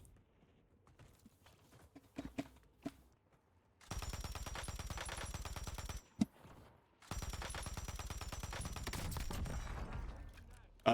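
Puymont 762 rifle fire in the shooter game Warzone, two sustained, rapid automatic bursts of several seconds each following a few scattered quieter clicks and thumps.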